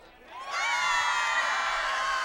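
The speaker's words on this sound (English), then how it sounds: "And you can tell by the crowd that it's good" A high school football crowd roars and whoops after a successful extra point kick, a loud sustained mass of cheering voices with some shrill yells rising over it.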